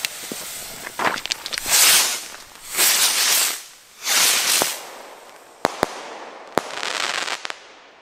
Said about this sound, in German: Orion-Raketen